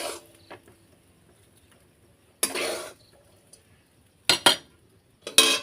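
Fried rice goes into milk in a pot for payesh, with a few short, sharp spoon-and-pot clatters separated by quiet gaps.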